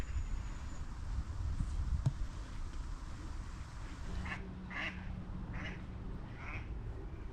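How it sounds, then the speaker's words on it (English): Several ducks quack in a short series of nasal calls at a moderate distance, over steady outdoor wind and background rumble. "Good duck spotting, little duck dog."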